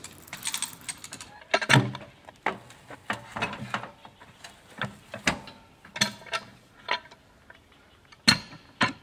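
A come-along winch ratchets a log onto a LumberMate 2000 sawmill, producing close, irregular metallic clicks and clanks in repeated bursts, with wooden knocks and creaks between pulls.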